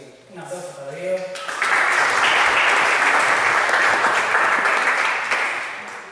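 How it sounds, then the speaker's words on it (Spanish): An audience at a Python programming conference talk bursts into applause that swells quickly and holds as a full, steady roar of clapping before slowly fading, with a voice heard briefly beforehand. "Un aplauso para Diego."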